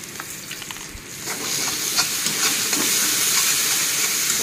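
Taro greens frying with ground coriander and cumin in a pan, a steady bright sizzle that swells after the first second and holds, with soft scraping stirs scattered through and no voices.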